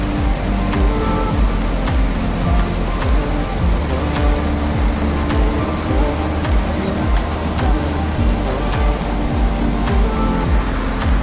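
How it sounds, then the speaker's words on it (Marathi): Nangartas waterfall at Amboli Ghat pours down with a dense, steady roar of falling water that fills the scene evenly, loud and unbroken throughout. "हे पाणी बघा कसं खाली पडतंय नांगरासारखं."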